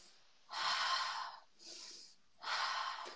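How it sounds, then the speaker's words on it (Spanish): Abdominal breathing in a hypopressive exercise session: three close, breathy airflow sounds, a long loud inhale, a softer breath, then another strong one, with quiet gaps between. "Una respiración es la abdominal."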